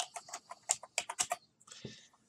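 Quick bursts of keystrokes on a computer keyboard, a rapid run of close, faint clicks followed by a brief pause and a few softer taps.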